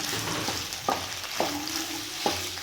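Cooked Italian pasta with beef and seasoning herbs mixed in a pan: a soft sizzle under a few separate scraping strokes of a spoon, close and moderately quiet, with no voices.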